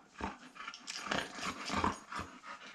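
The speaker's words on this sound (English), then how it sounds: "while Molly pants at me ferociously" A big pet dog panting and huffing close by indoors, a quick uneven run of breathy puffs with small whines, heard alone.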